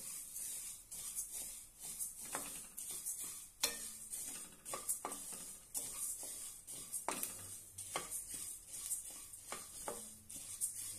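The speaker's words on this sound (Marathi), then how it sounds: "आता आपले धने भाजून झालेले आहे।" Coriander seeds roast in a dry pan, giving a faint, steady sizzle with scattered light scraping and stirring taps close by.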